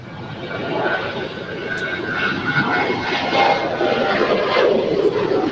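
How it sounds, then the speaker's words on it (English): A Korean Air Boeing 777 departs from runway 25 right at LAX, its jet engines producing a steady, broad roar that holds at an even level throughout, with no talk. "We got the Korean Air 777 now making her way down for a departure there on 25 right"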